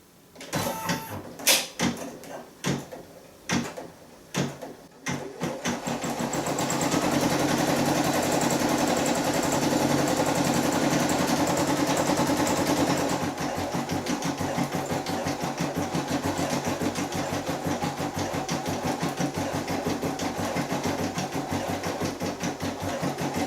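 An embroidery sewing machine stitches after a few sharp clicks, settling into a steady, close mechanical whir that shifts to a slightly rougher, pulsing tone partway through and keeps running to the end with no talking.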